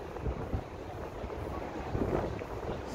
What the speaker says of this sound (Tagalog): So medyo mahangin din, pero mainit pa rin yung simoy ng hangin.